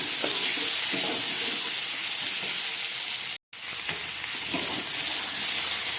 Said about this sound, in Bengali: রাঁধুনি ফোড়ন দিয়ে রান্না করছি।